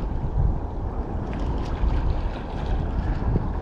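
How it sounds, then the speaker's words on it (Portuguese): Strong wind at sea during kayak fishing, a dense steady rush and roar of gusts buffeting the microphone, with water and waves churning underneath and no voices. "Ó, o vento já entrou."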